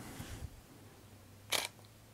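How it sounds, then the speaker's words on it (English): Leica SL mirrorless camera shutter fired once: a quiet, damped, solid click, short and close, after a faint handling rustle, with no talking. "So it's got a nice solid sounding, quiet, damped shutter."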